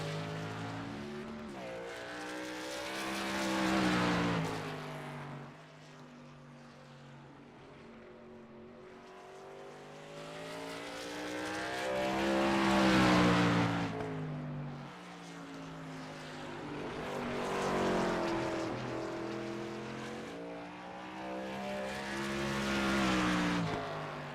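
Race car engine on a qualifying lap at Wilkesboro in a racing game, with the pitch swelling and falling in repeated long revving arcs through the corners, loud and sustained.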